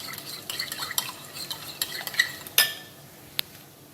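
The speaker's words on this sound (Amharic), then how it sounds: "ከዛ ይሄንን በደንብ አድርገን እናማስለዋለን።" Scraping and clinking of a spoon stirring potatoes with cooking cream in a pot, light irregular taps and rasps ending in a sharp metallic knock and a final ding.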